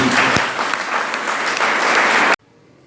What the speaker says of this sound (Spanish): Si le queda ese aplauso al Señor.